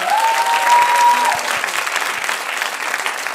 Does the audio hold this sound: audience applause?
yes